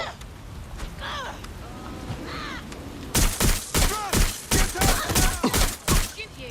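Rapid bursts of gunfire from a Watch Dogs Legion firefight, at first faint and distant under shouting, then loud, close shots in quick, uneven volleys.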